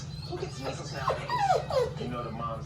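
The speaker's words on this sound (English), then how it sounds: "Oh, he's barking." A dog being dog-sat vocalizes close by in a short burst of whiny yips and barks, several rising and falling calls over about two seconds, with low background noise underneath.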